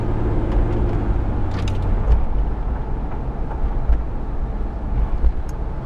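A 1995 Ford Explorer Expedition 4x4 with a 4.0-liter V6 runs steadily, a loud, close, continuous engine rumble with no voices over it.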